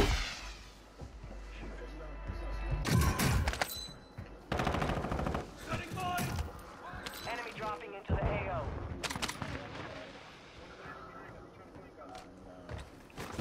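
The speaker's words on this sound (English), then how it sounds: "He's shooting me." Bursts of automatic gunfire and single shots in Call of Duty Warzone 2 (Modern Warfare II) multiplayer, loud and repeated in uneven volleys, with excited players talking over the firefight.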